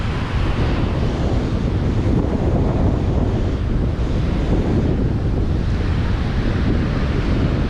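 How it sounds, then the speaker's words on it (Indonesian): Strong wind buffets the microphone at Ulee Lheue beach in Banda Aceh while surf rolls in steadily, a dense continuous roar with no voices. "Anginnya kencang sekali nih guys."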